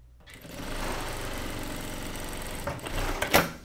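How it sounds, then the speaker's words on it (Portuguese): A sewing machine topstitches a piece of a women's blouse, running in a quick steady hum of needle beats close by, ending with a few clunks as it stops. "Vou costurar e pespontar essa peça aqui."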